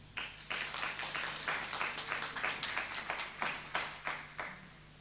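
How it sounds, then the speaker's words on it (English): An audience at a Johannesburg youth stakeholder session applauds a presenter, a steady wash of clapping with individual claps standing out, fairly even in level and over a low background hum. "Can we have a round of applause, please?"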